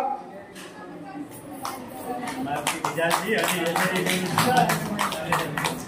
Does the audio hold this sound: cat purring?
no